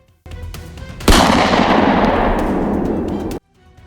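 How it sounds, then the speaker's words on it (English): A gunshot sound effect in a dramatic audio story, with one loud, sharp blast followed by a long, dense rumbling tail that cuts off abruptly, set against a low background tone. "A shot rang out."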